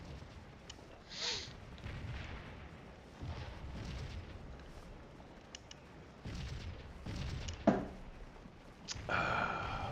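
Artillery in the Scourge of War Gettysburg battle game thuds repeatedly from a distance, as scattered low booms and blasts rise over a steady rumbling battlefield background.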